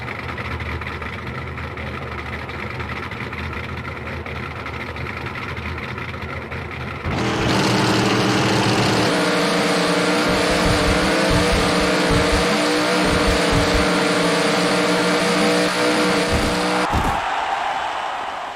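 Drag racing cars at Topeka in NHRA Drag Racing: Countdown to the Championship, a low engine idle and rumble that jumps to a loud, sustained roar for about ten seconds before dropping away sharply near the end.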